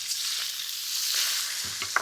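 Chicken pieces hitting a hot wok of smoking macadamia oil and stir-frying, a bright continuous sizzle with a few scraping, clattering stirs near the end, close and alone.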